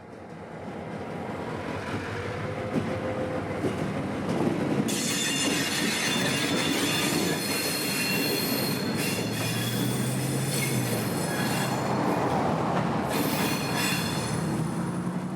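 A heavy Florida East Coast Railway freight locomotive, about five decades old, rumbles slowly in reverse along the rails while its wheels let out long, loud metallic squeals, steady and close.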